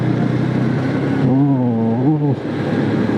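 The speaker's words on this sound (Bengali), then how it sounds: "ভালোই ফিল হচ্ছে নতুন বাইক চালিয়ে।" A new motorcycle rides along a road, its engine droning loud and close with a rising then falling rev sweep midway, no talk over it.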